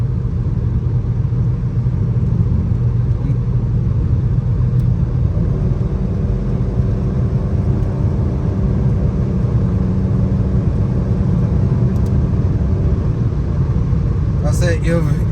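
A Dodge Challenger SXT cruising on back roads, its engine giving a continuous low rumble and road drone heard from inside the cabin, steady and loud throughout, with someone talking over it.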